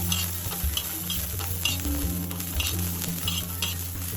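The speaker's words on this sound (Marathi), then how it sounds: "त्याच्यामध्ये आपण एक अर्धा चमचा वगैरे तेल टाकून घेऊया आणि आता ते व्यवस्थित आपण भाजून घेऊया" Green chilies roast in a little oil in a pan with a continuous crackling sizzle, broken by repeated scraping stir strokes and clicks of a spoon against the pan, and a low hum underneath.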